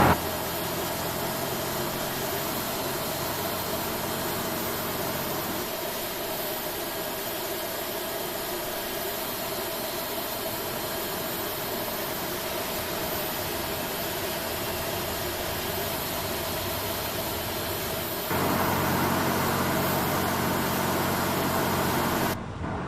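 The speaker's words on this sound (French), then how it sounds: "Démarrage moteur 2. Starting engine 2." An Air France airliner's number 2 jet engine starts and runs at the gate after pushback, a steady loud broadband roar and whine that holds throughout and swells slightly toward the end.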